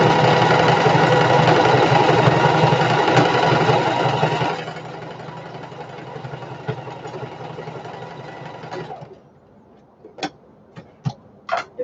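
A sewing machine runs a zigzag stitch on a shoulder bag, a loud steady mechanical whir that drops to a quieter slower run midway, then stops, followed by a few faint isolated clicks.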